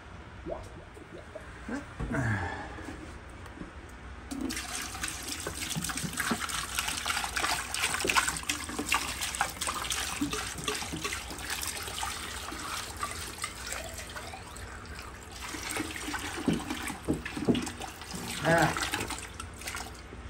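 Water from a gallon jug pours and splashes while fish tank parts get rinsed, a continuous close trickling and sloshing stream that runs most of the time, with faint handling noises.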